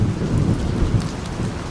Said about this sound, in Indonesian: Langit mulai menumpahkan air hujan.